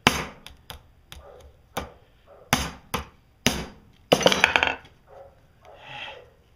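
A hammer strikes a nail to form a homemade rivet with a washer, about a dozen sharp, loud metallic blows in uneven bursts, one run of rapid taps near the middle, with no talking.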